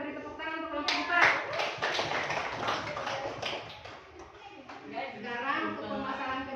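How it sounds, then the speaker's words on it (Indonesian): A classroom of students claps for a group, a burst of many hands clapping that swells and then thins, mixed with children's chatter and voices throughout. "kita beri tepuk tangan untuk kelompok 4."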